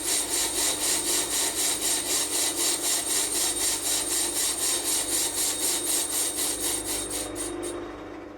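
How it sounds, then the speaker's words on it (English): A metal lathe turns a cast iron flywheel for a Stuart 10V steam engine at slow speed, giving a steady rhythmic scraping cut with regular pulses, close and fairly loud, tapering off near the end with no talk. "Generally, I machine cast iron quite slowly,"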